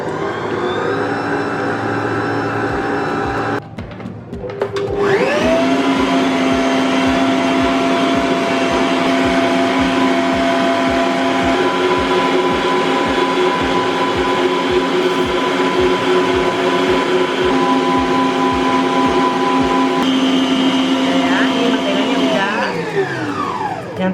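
An electric mixer whirs loudly and continuously as it beats eggs with powdered sugar and vanilla for a layered cake batter, cutting out briefly, then restarting at a steady pitch and winding down at the end.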